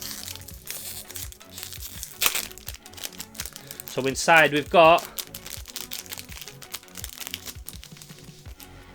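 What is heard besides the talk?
toy packaging being opened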